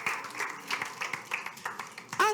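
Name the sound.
congregation applauding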